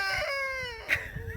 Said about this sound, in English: He's like the most excessive rooster ever.